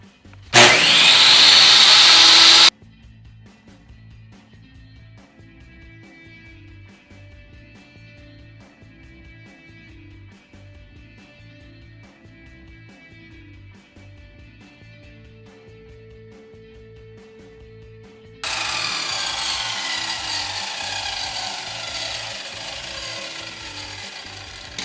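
Table saw ripping wood slats for a pedalboard: a loud whining cut for about two seconds, then a quieter stretch of the blade spinning freely, then a second long, loud cut.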